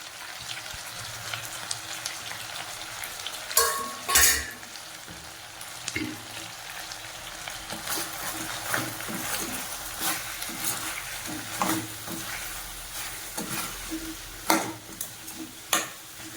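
Chicken fries with ground masala powder in a pan, a low, steady sizzle broken by a few sharp clanks and scrapes of a spoon, with no voices.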